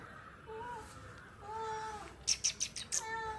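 Several meows from a mother cat and kittens, drawn-out cries followed by a quick cluster of short, high-pitched squeaky mews, fairly close over a quiet background.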